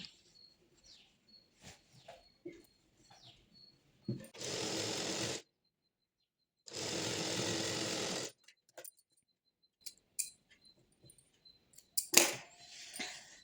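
A sewing machine stitches a patiala pant in two steady runs of about a second each, loud and close, with quiet handling of cloth and small clicks between the bursts.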